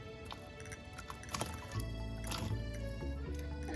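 Two cups of cauliflower dumped into a pot half filled with water on a stove give close wet splashes and sloshing with scattered drips and a heavier plop partway through.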